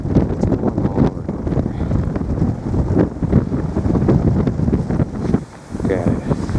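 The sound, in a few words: strong wind storm blowing snow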